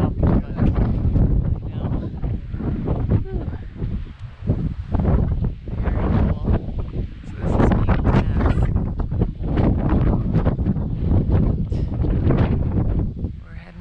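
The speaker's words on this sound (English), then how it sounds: "it's a little windy where I am" Strong wind buffets the microphone on Franconia Ridge, a mountain ridge, with loud gusting rumbles that rise and fall continuously and sound very close.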